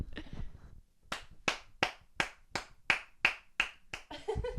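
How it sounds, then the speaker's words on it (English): Ten sharp hand claps in a steady, slightly uneven rhythm ring out close and loud, preceded by a brief low mumble and followed by a short burst of voices. "I'm clapping."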